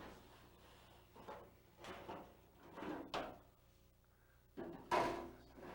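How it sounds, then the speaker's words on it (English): A storage drawer at the bottom of a gas range is worked loose and pulled out, giving several faint scraping slides and bumps, then a sharper knock near the end, in a quiet room. "Let's take out this drawer at the bottom."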